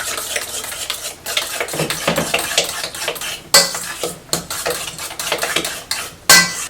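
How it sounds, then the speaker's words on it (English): Bananas, eggs and oil being mixed in a bowl for banana bread, with repeated scraping and clinking strokes of a utensil against the bowl in an uneven rhythm, close and fairly loud, no speech. "Now we're going to mix this together."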